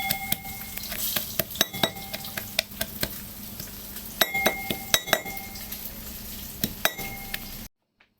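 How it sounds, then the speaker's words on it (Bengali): Fried green chilies, garlic and onion crushed with salt, heard as a close run of clinks and knocks, irregular taps of a utensil against glass or a dish, with no talk. "কাঁচা লঙ্কা, রসুন আর পেঁয়াজ এগুলো ফ্রাই করে নিয়েছিলাম, ওগুলো এখানে আমরা লবণ দিয়ে একটু কুটে নেবো"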